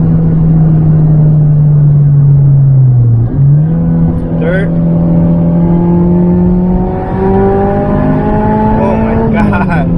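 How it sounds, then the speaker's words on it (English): Supercharged Mazda ND Miata engine revving hard at high RPM, a loud sustained drone whose pitch climbs steadily as it pulls up through the gears, with a brief dip at a shift and someone talking over it. "You can just hear in those over RPMs how this thing just wants to go"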